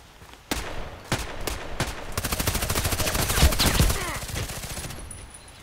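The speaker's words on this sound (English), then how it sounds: "Why is he shooting?" Gunfire in the online shooter Contract Wars, a few separate loud single shots followed by a long rapid burst of automatic fire, close and sharp, with a voice briefly heard.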